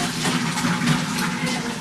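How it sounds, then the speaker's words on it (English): Water from a pot of boiled stuffed pasta shells pouring through a strainer in a kitchen, a loud, continuous close gushing splash with no talking over it. "I'm straining out the stuffed shells."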